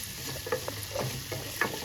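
Quiet sizzling of dried fish frying with tomato in a pan, with soft stirring scrapes and occasional small pops, steady and close.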